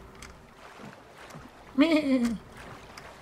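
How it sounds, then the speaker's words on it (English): A boat sits on the water in the survival game The Forest, with a soft, steady wash of water and engine noise in the background. A voice briefly cuts in over it. "Oh, listen to the boat."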